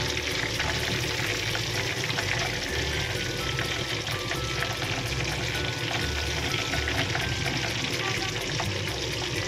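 Cordon bleu fries in a pan over medium heat, giving a steady, continuous sizzle and crackle of hot oil that stays even and close throughout without pause.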